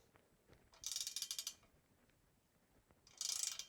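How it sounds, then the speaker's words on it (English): A wrench ratchets on a headset press during a DIY headset install on a Surly Troll touring bike, two bursts of rapid clicking separated by a quiet pause, close and alone. "All I'm doing is putting leverage on the wrench here, and I only have the washer on one side"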